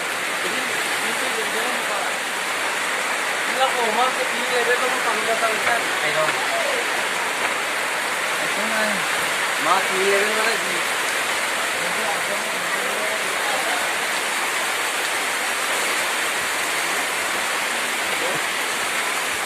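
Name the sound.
heavy rain pouring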